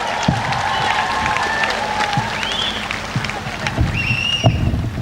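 A crowd at a Congress party rally in Khumulwng, Tripura, claps for Rahul Gandhi, a steady dense patter of applause with a few whistles and shouts rising over it throughout.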